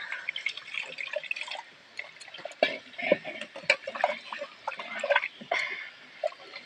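A little water is poured onto chopped sweet potato in a cooking pot, making close, irregular drips and small splashes with light clinks between them.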